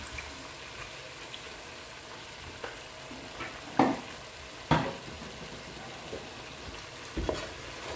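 Already-cooked meat frying in oil for a Central African koko dish, a soft low sizzle punctuated by a few sharper clatters and stirring knocks, fairly quiet and without speech.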